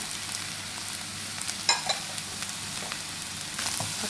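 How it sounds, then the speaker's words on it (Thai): Sataw beans stir-fried in a pan with minced pork and shrimp paste chili for shrimp fried rice: a steady soft sizzle with occasional scrapes and clinks of stirring, no talking. "ผัดสตอ ใส่หมูสับนะคะ ใส่น้ำพริก น้ำพริกกะปินะคะ แล้วก็ใส่ลงไปเลยนะคะ"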